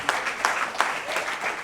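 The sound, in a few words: audience applause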